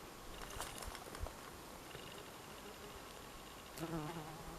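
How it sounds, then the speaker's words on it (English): Steady hoverfly buzzing drones through the whole clip, close and fairly loud, with a brief swell near the end as it moves nearer. "I think it's some kind of a fly. Maybe probably a hoverfly actually"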